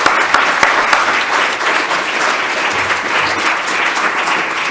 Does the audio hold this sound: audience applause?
yes